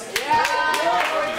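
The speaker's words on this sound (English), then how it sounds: "Give them a round of applause." Applause from a small audience at a performance night at the Crow and the Quill in Asheville, NC: a brief patter of claps and cheering in a bar room, moderately close.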